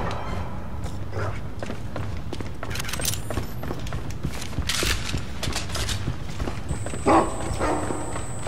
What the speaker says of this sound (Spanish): Debe haber enemigos cerca porque está gruñendo el perro.